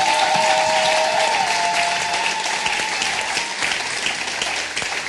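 A church congregation bursts into sustained applause and cheering in celebration, dense clapping filling a large room steadily for several seconds with a few voices rising above it.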